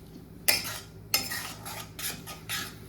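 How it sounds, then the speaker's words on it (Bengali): Spice masala of coriander and cumin powder being stirred in oil in a pan over a low flame, with a few sharp metal spoon scrapes and clinks against the pan and soft frying underneath, no talk. "লো ফ্লেমে রেখে মশলাটাকে আমি কষিয়ে নেব।"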